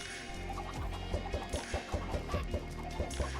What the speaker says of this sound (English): Might as well get a few more chickens this way too.